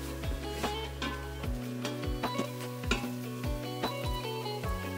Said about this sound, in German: Nun werden die grünen Chilis und die Gewürzmischung für 1 Minute mitgebraten